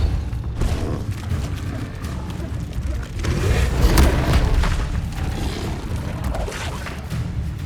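The Depulso spell is cast in Hogwarts Legacy, with a forceful booming blast among rumbling, creaking game effects. The sound is loud and sustained and swells to a heavy impact near the middle.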